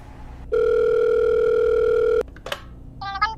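A steady telephone dial tone sounds loud and alone for nearly two seconds in a prison phone call, then cuts off, followed by brief handling clicks and beeps.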